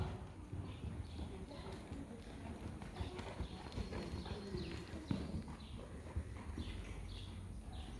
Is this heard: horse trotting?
yes